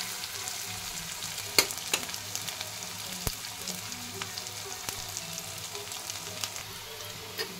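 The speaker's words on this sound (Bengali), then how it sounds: "পেঁয়াজগুলোকে ভালো করে লাল লাল ভাজতে হবে গোল্ডেন ব্রাউন হওয়া পর্যন্ত।" Onions frying in oil until golden brown, a steady faint sizzle with a few sharp clicks and pops from stirring, continuous and alone with no talking.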